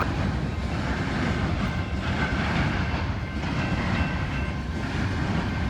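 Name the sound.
CSX train coming around the curve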